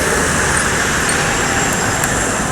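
A PMTOH bus passes on Jalan Soekarno Hatta in Palembang, a broad roar of road noise and engine that stays loud and continuous throughout.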